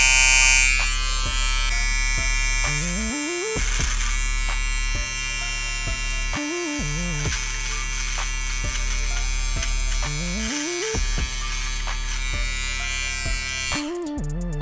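A Kemei 2299 hair clipper fitted with Babyliss Lence Pro blades runs with a loud, steady electric buzz and hum throughout, briefly cut off and restarted several times.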